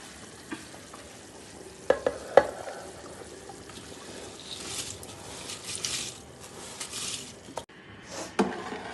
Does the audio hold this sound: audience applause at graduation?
no